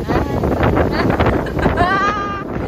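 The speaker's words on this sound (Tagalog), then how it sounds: "alakas ng hangin oy dahil uulan na" Strong, steady wind before rain roars across the microphone on a farm in the Philippines, with gusty buffeting throughout, while faint bleating and a brief tonal call rise near the end.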